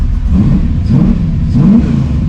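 An LSX V8-swapped Infiniti G35 accelerates with a loud, close, low engine rumble that rises and swells in pitch, steady throughout with no talk over it.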